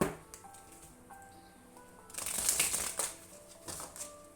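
Tarot cards being shuffled by hand close up, a soft riffling rush building midway with a few crisp snaps and flicks, quiet overall with faint background tones.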